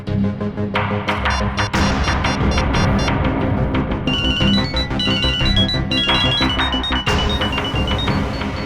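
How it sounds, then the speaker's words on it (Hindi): A busy, unusual electronic ringtone plays loudly, layered tones and chiming melodic beeps repeating in a continuous musical pattern. "मेरे फोन करने पर अलग तरह की रिंग बजी"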